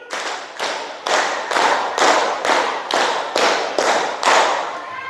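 Schoolchildren clap a five-count pattern twice in unison, giving about ten loud, crisp, evenly timed bursts of hand claps in a classroom.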